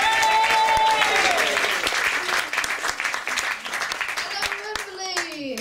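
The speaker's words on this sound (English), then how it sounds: "give him a huge warm welcome, a massive round of applause" An Edinburgh Fringe comedy audience claps and cheers loudly to welcome an act, a dense sustained round of applause that thins toward the end, with voices heard over it.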